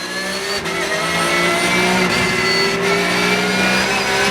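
Ferrari and Porsche race cars battle at speed on the Dijon-Prenois circuit, a loud, steady engine drone with revving tones swelling and shifting as the cars pass close by.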